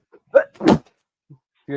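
A single short, sharp sneeze bursts out in an otherwise quiet space, with a brief voice sound just before and after.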